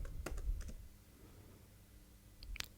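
A few quick keystrokes tap on a computer keyboard, typing a command: a short cluster of clicks at the start and another brief burst near the end, faint and close in a quiet room.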